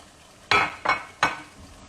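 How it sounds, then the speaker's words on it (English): French fries dropped into a pan of sizzling Puerto Rican-style corned beef, three distinct scraping, rustling bursts with clinks of a utensil, each fading into a soft background sizzle. "I'm going to add my French fries."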